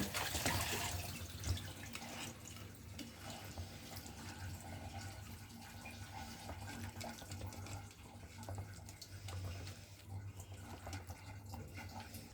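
Water pours into a pot of small fish with spinach, a steady close splashing flow that fades slightly over several seconds, with no talk.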